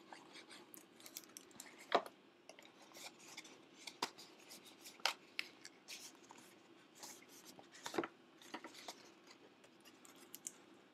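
Scissors cut paper or card for a homemade craft box, a soft continuous rasp and rub with a few sharper snips standing out, close and quiet with no talk.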